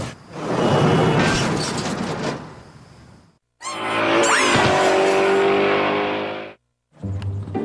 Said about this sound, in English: Canada's worst drivers are learning how to slowly slide a car sideways by doing S-turns.